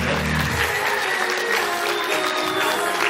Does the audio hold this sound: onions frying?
no